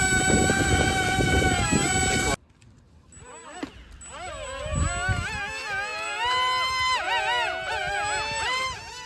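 High-voltage drone motors spinning up, a high whine that rises and falls in pitch with throttle changes, close and loud after an abrupt cut, with brief talk nearby.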